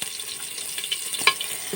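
Chopped onion sizzling in hot oil in a pressure cooker while an Assamese pork curry is being made, a steady, close hiss with faint stirring clicks and no talking.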